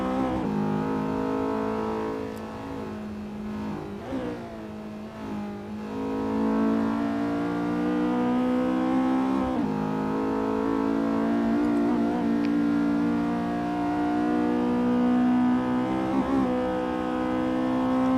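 Race car engine in a touge racing video game holding a steady high-pitched drone, with a few brief lifts and re-accelerations before settling back to a loud, continuous, close wail.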